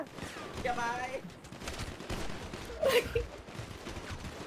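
Bursts of gunfire crackle during a crowded video game roleplay shootout among rival gangs, with rapid overlapping shots under excited shouting voices throughout.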